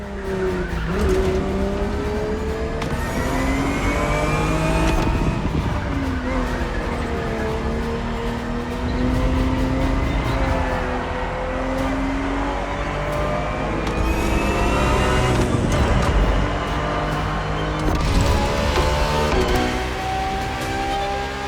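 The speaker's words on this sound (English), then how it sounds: "The Ferrari 365 GTB4 is the perfect vehicle for you to experience Ferrari racing as it felt back in the 70s" A Ferrari 365 GTB4 from the 1970s races in a driving video game, its engine loud and continuous, rising and falling in pitch through gear changes, with tire squeal on the turns and no talk.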